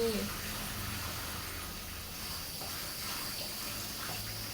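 Running water pours from a tap while dishes are washed by hand in a home kitchen, a continuous soft splashing gush with faint clinks, fairly quiet and steady throughout.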